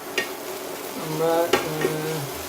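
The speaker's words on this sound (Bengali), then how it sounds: "হাতা দিয়ে চাপ দিয়ে করে দিচ্ছি।" A ladle presses and stirs egg and eggplant mash in a frying pan: soft scraping and a few light clinks over a low, steady sizzle.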